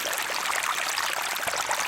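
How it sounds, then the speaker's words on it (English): Small rainwater stream flowing between rocks on rocky land, a steady broad rushing and trickling wash that stays continuous and fairly loud throughout, with no voices. "So the water is still flowing here."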